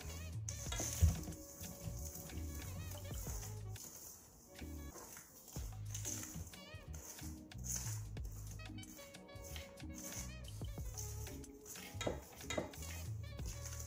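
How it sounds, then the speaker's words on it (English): Puff puff (bofrot) dough being mixed by hand in a bowl, with irregular wet slaps, squelches and light knocks against the bowl, close and uneven. "Just mix it up really well, making sure it's well combined."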